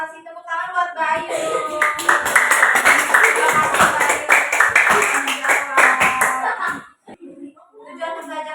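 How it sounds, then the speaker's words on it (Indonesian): Students in a classroom religion lesson clap together in a quick, steady burst lasting several seconds, sharp hand claps near and loud, with children's voices chanting and talking over and around the clapping. "Kasih tepuk tangan buat Bayu."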